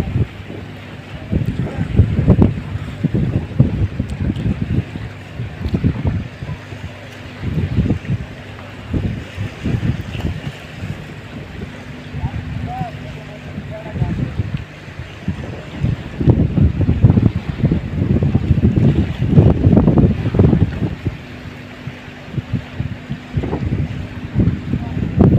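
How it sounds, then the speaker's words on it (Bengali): Strong wind blows steadily over a fishing pond swollen with risen water, a continuous rushing roar with gusty surges and low rumbling buffets against the microphone throughout, louder in the second half. "যেরকম বাতাস সেই রকম পানির চোট।"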